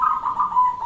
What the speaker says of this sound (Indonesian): Itu malah yang bunyi yang di atas kepala saya persis itu burung.